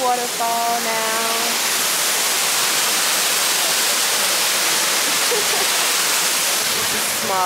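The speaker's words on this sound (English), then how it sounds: "Another waterfall now." A small waterfall in the Dominican Republic gives a loud, steady, broadband rush throughout, with brief bird-like chirps near the start and end.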